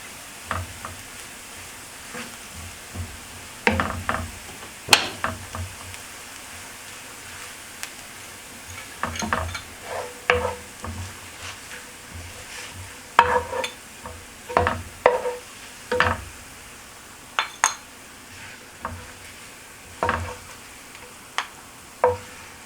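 Garlic frying in a pan until brown and crispy, with a steady low sizzle under a run of sharp scraping and stirring knocks against the pan, loudest in clusters midway through.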